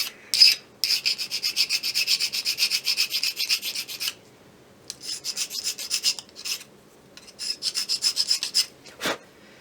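A file rasps back and forth on wood to fit the nose cap of a Kibler colonial flintlock kit. The close, rhythmic strokes come in bursts with short pauses between them, ending in a single scrape.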